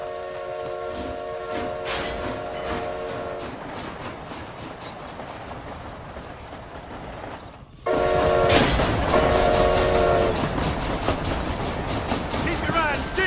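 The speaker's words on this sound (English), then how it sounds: "This train headed for Mexico?" Train running in Red Dead Redemption: Undead Nightmare, a steady rumbling clatter of rolling wheels that swells louder midway, with horn-like tonal blasts and character voices over it.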